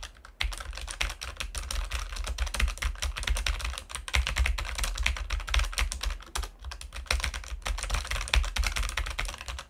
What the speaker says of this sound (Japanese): マイク50センチぐらいの距離でキーボードをね叩いてみた時にどんな感じか